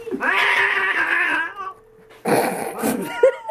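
A cat caterwauls close by: one long, wavering yowl, a brief pause, then a second harsher, rising yowl that breaks off abruptly.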